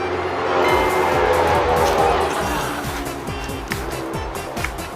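A motorcycle rumbles past with a low engine drone, fairly loud and steady, over a background sizzle of whole pork belly roasting in a clay jar.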